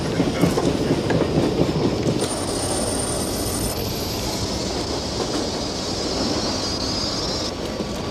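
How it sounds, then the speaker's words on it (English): A commuter train runs through a tunnel beneath Washington, with a loud continuous rumble, rhythmic clickety-clack of wheels and brief high metallic squeals. "In a tunnel beneath the nation's capital, a commuter train carries astronomer Benjamin Peary to work."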